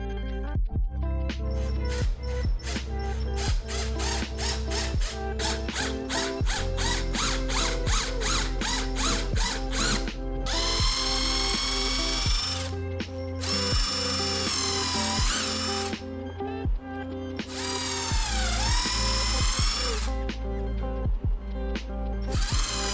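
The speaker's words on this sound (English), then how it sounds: "bring out my biggest drill bit" A power drill boring a hole through an old book: a long run of rapid ratcheting clicks from the drill, then repeated loud whirring bursts as the bit bites and stops, close and alone with no talk.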